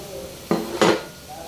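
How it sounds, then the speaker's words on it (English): Vegetables tossed into a pan of pork, two quick bursts of clattering and sizzling close up, then quiet. "Okay, I'm just gonna throw in the veg"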